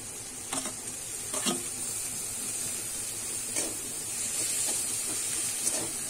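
Boiled bhetki fish and green chillies fry in a pan with a steady hissing sizzle, broken by several scraping stirs and taps against the pan.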